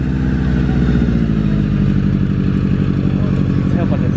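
A Subaru-engined car on Porsche wheels runs steadily nearby, a loud, constant low engine drone with a rhythmic mechanical pulse throughout, with no pauses or clear revving.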